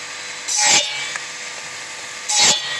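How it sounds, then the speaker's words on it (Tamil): Electric cutting machine slicing cassava stems: two short, loud rasping bursts about two seconds apart over a continuous motor hum, heard close with no talk. "வாங்க மரவள்ளி குச்சி நறுக்கிற நவீன மிஷினை பார்க்கலாம்"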